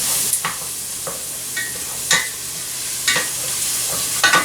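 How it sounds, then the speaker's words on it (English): Kale being stirred in a pan of sizzling butter and oil, with a steady frying hiss broken by several sharp scraping stirs at irregular intervals, close and fairly loud. "I'm going to give this another stir"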